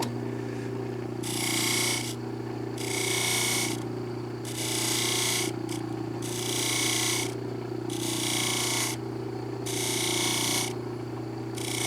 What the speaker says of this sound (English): Actually, I'm going to deburr